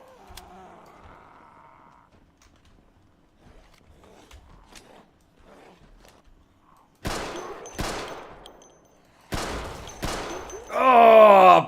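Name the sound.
pistol gunfire in video game Project Zomboid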